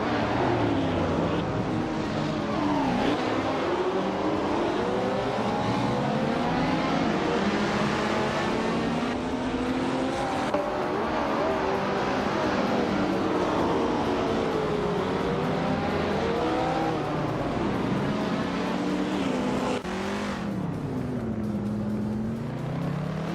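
Vintage race cars circle a tight-cornered track, engines droning and rising and falling in pitch as they pass and shift, a continuous loud layered roar with no voices.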